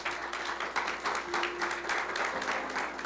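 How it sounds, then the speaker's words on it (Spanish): A church congregation breaks into applause, a moderately loud wash of clapping with some rhythmic pulsing and a faint sustained tone running beneath it. "Dale un aplauso al Señor."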